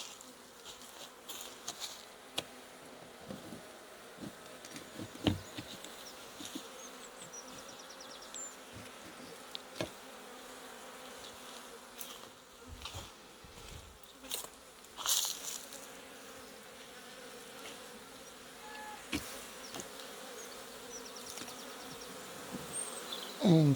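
Honey bees buzzing around an open hive during an inspection, a continuous faint drone with occasional closer passes and clicks of handled frames.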